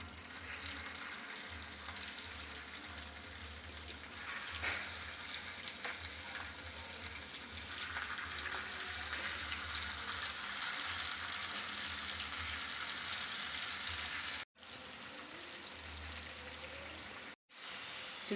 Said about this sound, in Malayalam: ചിക്കനും കൂടെ നമുക്ക് ഇതിലോട്ട് വറുത്തെടുക്കാം.